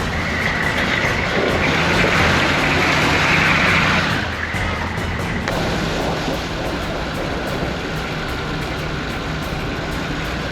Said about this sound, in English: I'm trying to daily drive this Hummer. It's so loud, I don't hear my phone ring.